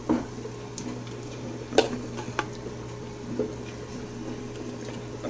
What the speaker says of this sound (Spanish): Si le hace falta más agüita, le ponemos un poquito más